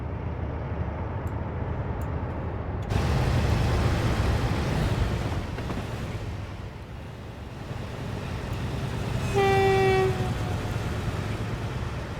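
In a train simulator, a Class 58 locomotive on the Great Western Main Line overtakes a slower freight train: a steady rolling rumble that grows louder as the trains pass, and a horn sounds near the end.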